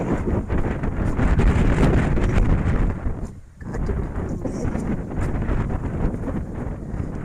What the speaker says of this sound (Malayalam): കാറ്റ് പിടിക്കുന്നുണ്ട്